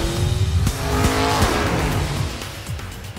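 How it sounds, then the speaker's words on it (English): A fast car drives with a loud engine roar, and its tires squeal through a turn. The sound stays close and continuous throughout. "A fast car makes it a bit more fun."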